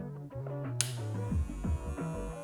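A WMark NG 125 hair clipper runs at speed, producing a steady, low, tonal motor hum with faint shifting overtones and a small click, heard close and alone.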